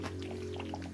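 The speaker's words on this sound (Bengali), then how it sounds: "ভিনেগার দিয়ে দিলাম।" Vinegar poured into sour mango achaar, a steady soft liquid trickle lasting under a second over a constant low hum, fairly quiet and with no talking.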